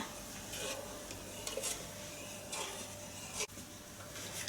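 A spoon scrapes and stirs thick pandan dessert batter in a pot over low heat, with soft repeated scraping strokes and a sharp knock against the pot near the end, close and alone.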